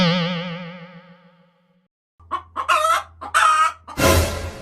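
A hen clucks and squawks in several loud, choppy bursts near the listener, preceded by a fading wavering tone and ending in a noisy flurry.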